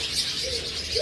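Breeding pair of pet birds for sale, chirping steadily in a thin, continuous high twitter. The calls sit close and fairly loud, with no talking.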